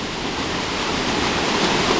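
Waterfall at Silver Falls State Park, a steady, dense roar of falling water close by, unbroken and even throughout with no voices.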